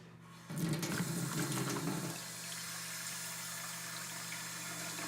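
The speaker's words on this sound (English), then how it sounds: "I just need to put some more water in here" Water gushes into a foot bath for hydrotherapy in a loud burst for about two seconds, then fades to a steady low hum with faint trickling.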